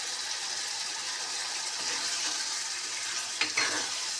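Spice masala for a prawn malai curry fries in oil with a steady close sizzle, then a sharper spatula scrape and clatter near the end.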